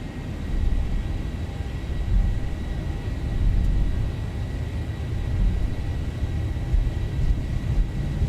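Airliner engines in the Zibomod flight simulator spool up for takeoff, a steady, loud, broadband rumble and roar that holds nearly constant throughout, with a faint high whine above it.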